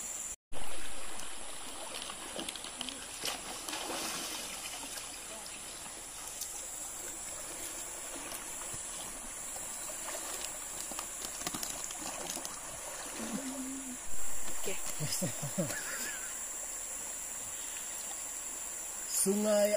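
River stream flowing steadily in the Ulu Baram forest near Long Lamai, Sarawak, Borneo, with insects chirping throughout and brief voices near the end.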